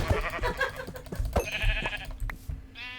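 Minecraft sheep give several close, nasal bleats in quick succession amid thumps and in-game action noises, ending with a brief higher-pitched effect.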